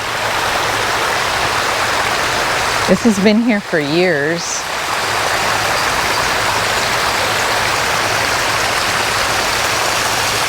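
Small mossy garden waterfall, water rippling down in a steady, close hiss that runs unbroken throughout, with a brief spoken remark passing over it partway through.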